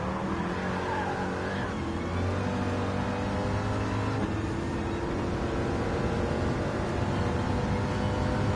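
Muscle car engines, including a Dodge Challenger, roar in a Gran Turismo 7 race, a continuous loud drone with shifting revs and gear changes throughout, close and steady.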